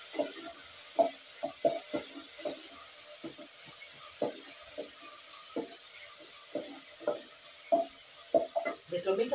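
Tomatoes go into a pan of frying matumbo (tripe), where a steady soft sizzle runs under a string of sharp scraping and stirring knocks that come every half second or so, close and moderately loud.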